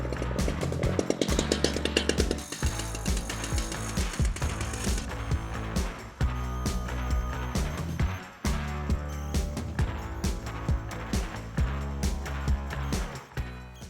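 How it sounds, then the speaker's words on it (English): A chainsaw buzzes loudly up close, its whine rising and dipping repeatedly as it bites into wood, with brief drops between cuts. "Got my safety gear on, ready to start sawing."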